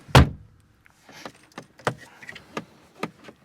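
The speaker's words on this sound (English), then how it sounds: "Now let's close the door." The door of a 2023 Mercedes-Benz GLB 35 AMG shuts with a solid low thunk at the start, followed by a few light clicks and taps from the cabin.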